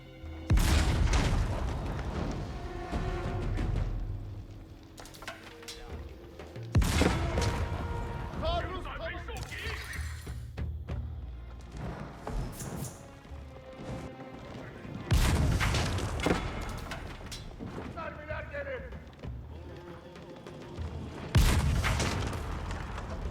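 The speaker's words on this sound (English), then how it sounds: "Great Bombard hitting these outposts now." Great Bombard cannon shots pounding outposts in Age of Empires 4, heavy booms arriving every few seconds with rumbling impacts and debris, mixed with battle noise and a commentator talking over it.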